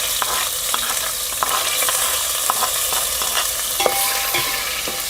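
Ground masala is stirred and sautéed in hot oil for a Kolhapuri chicken curry cooked over a wood-fired stove, giving a steady sizzle broken by repeated scraping and clinking stirs.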